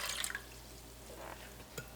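Filtered water, about three and a half cups, poured into a pan on a stove burner, giving a quiet, steady trickle with faint drips and splashes that swell briefly near the end, with no talking.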